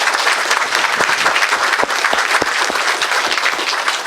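Audience applause filling a meeting room, a dense steady patter of many hands clapping for about four seconds, loud and close with no talk over it.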